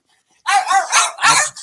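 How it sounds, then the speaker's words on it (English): Household dogs bark loudly and close by in an indoor room, a quick burst of several sharp barks in a row with brief gaps, after a short silence. "Our dogs are just going nuts again."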